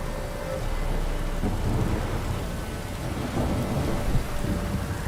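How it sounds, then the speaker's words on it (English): A thunderstorm with rain in a video game rumbles on without pause, heavy low thunder rolling under steady rainfall, loud and close, with no voices. "A storm, damn it."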